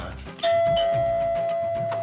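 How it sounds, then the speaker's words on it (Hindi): A doorbell at the front door of a home rings once with a bright sustained chime that rings on to the end, loud over background music and a brief voice. "सोना दुकानों में होता है, घरों के दरवाजे पे घंटियां नहीं मारता है"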